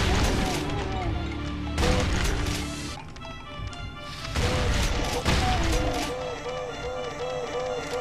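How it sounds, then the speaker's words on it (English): Repeated blasts of a shotgun in the Brutal Doom game, heavy booming shots and crashing impacts over a loud game soundtrack, with a brief lull midway before the firing resumes. "Shotgun ready."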